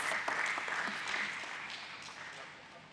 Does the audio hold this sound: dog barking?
no